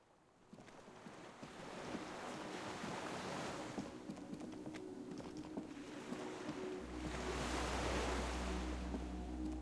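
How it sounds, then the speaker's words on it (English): Waves lap steadily around a skiff moored at a dock in the Disco Elysium video game, a continuous soft wash of water with faint wind. A low hum swells in near the end. "The skiff is swaying on the waves by the dock."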